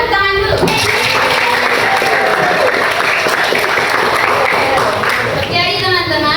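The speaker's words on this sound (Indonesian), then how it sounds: "tepuk tangan dulu" Students in an Islamic studies classroom break into loud, dense applause that runs steadily for several seconds. A few voices come through over the clapping near the start and end.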